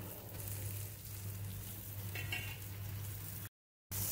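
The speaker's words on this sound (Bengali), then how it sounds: "একটু কষে নিতে হবে ভালো করে মশলাটা আর মটরশুঁটি বাটাটা।" Spices and ground green pea paste stir-fried in a pan, heard as a soft, steady sizzle with a brief scrape of stirring, ending in a short silent gap.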